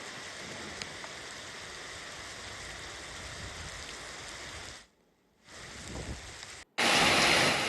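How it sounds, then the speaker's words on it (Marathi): Pre-monsoon rain falls across Bhandara district in Maharashtra as a steady, dense hiss. It drops out briefly near the end and then returns louder. "भंडारा जिल्ह्याच्या अनेक भागांमध्ये पावसानं हजेरी लावल्या।"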